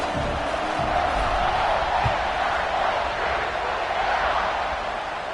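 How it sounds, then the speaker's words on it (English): A football stadium crowd hums and murmurs after a score, a steady distant wash of many voices with a few faint cheers, sustained evenly throughout. "this crowd is buzzing after that last score"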